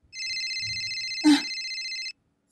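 Cellphone ringtone ringing steadily for about two seconds in a home setting, a bright sustained electronic tone with a brief knock or thump midway and faint low background sounds, then cutting off.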